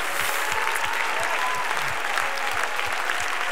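A congregation claps together at a worship gathering with no instruments or backing track, a steady, dense round of applause that fills the room throughout.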